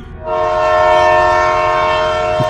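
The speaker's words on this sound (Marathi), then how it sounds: "तोच दुरून रेल्वेचा भोंगा ऐकू आला." A railway train horn sounds a single loud, sustained blast that starts after a brief quiet moment and holds steady, rich and brassy, to the end.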